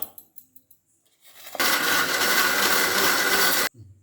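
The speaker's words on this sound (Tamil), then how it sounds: "வதக்கி வச்சது எல்லாத்தையும் மிக்சியில் விட நல்லா அரைச்சிடணும்" A mixer grinder blends sautéed vegetables into paste for aloo matar, a loud steady whir that kicks in abruptly after a few light clinks and stops just as suddenly two seconds later.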